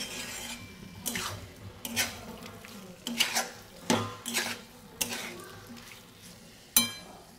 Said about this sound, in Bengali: এবার এটাকে খুব ভালোভাবে কষিয়ে নিতে হবে।